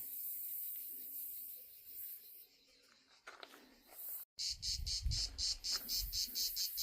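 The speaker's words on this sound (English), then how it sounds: "all the insects are present here" Insects chirp outdoors in a steady, pulsing chorus of high trills that grows louder and more rhythmic in the second half, with some rustling nearby.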